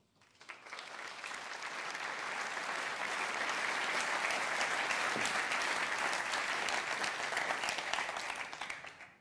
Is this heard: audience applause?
yes